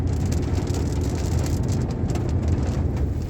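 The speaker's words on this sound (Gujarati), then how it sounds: "જોઈ શકો છો વરસાદ પડી રહ્યો છે" Steady rain falls outdoors at a hill station garden near a stream, a dense continuous patter with a low rumbling undertone, loud and close throughout with no voices.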